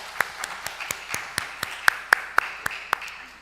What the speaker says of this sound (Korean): 우리 하나님께 영광의 박수를 돌려드리겠습니다.